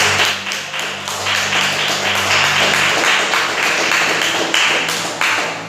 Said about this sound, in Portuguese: desocupa as tuas mãos e aplauda os céus bem forte